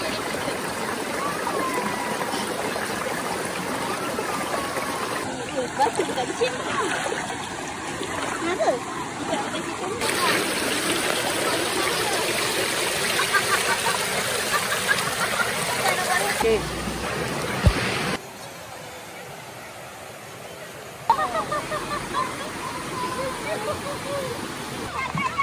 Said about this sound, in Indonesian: Jom kita masuk sungai.